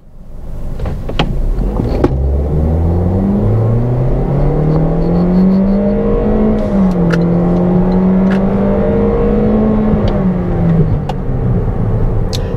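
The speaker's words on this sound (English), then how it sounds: "let's go ahead and go for a drive" A 2023 Toyota Corolla XSE Hatchback driving, heard from inside the cabin: a steady engine drone rises and falls in pitch as it accelerates and shifts, with road rumble underneath and a few faint clicks.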